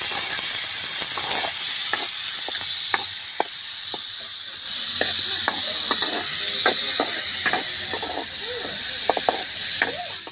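Tomato and onion pieces sauté in a hot pan for a cauliflower curry, giving a loud, steady sizzle and hiss throughout, dotted with light taps of a spoon against the pan.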